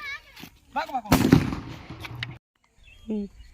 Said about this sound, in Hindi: यहाँ पर बम फूटा बोतल का चिथड़ा उड़ा दिया